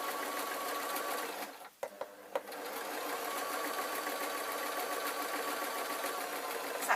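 A sewing machine stitches a lined waistcoat with a steady, continuous whir for most of the run. A brief pause comes early on, then the stitching resumes and holds at an even level to the end.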